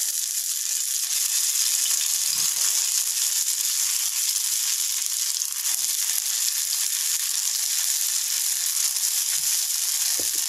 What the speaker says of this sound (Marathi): आणि व्यवस्थित फ्राय ही करून घेऊया।